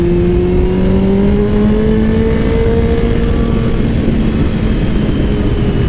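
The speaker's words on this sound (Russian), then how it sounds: "Не хоче пропускати, просто газує." A car engine revs repeatedly in traffic, a steady loud drone with rising and falling pitch, recorded close from a motorcycle moving between cars.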